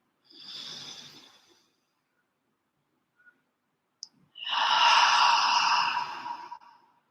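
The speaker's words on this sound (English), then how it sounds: "Inhale. And exhale together. And one more time." A group breathing exercise: a soft audible inhale, a pause with a faint click, then a longer, fuller exhale, airy and close.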